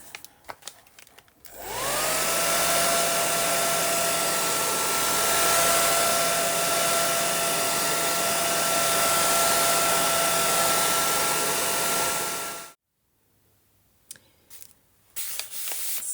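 A hair dryer blows steadily on a paper journal page for about eleven seconds, a loud, even whooshing roar with a constant motor whine that starts and stops abruptly, with a few faint handling clicks afterward.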